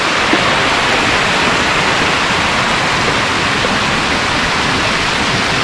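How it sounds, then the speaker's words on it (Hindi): A waterfall at Xinshe Castle in Taiwan roars with loud, constant broadband rushing water, steady and unbroken throughout with no voices. "ये देखिए ये पूरा जो झरने है जो मेरे पीछे बह रहा है यहाँ पर"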